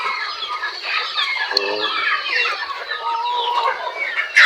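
Rhode Island chickens and turkeys on a farm: steady overlapping clucks and squawks from a close flock, with a louder call near the end.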